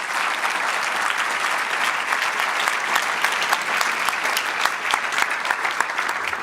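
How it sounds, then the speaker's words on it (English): Steady, dense applause from a conference audience thanking a panel at a cleantech industry event, sustained and even throughout without any talking. "I really would like to invite everyone to give a warm applause to our panel."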